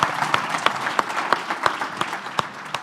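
Applause at a virtual reality seminar for guest speaker Cristian Domínguez, with a broad wash of crowd clapping punctuated by a few distinct, louder claps close by, holding throughout without any talking.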